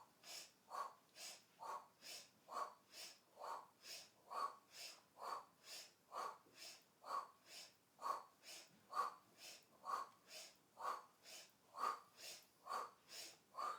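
Steady, rhythmic yogic breathing, each breath drawn in through the nose and pushed out through the mouth, about one cycle per second and repeating evenly and close by with no talking.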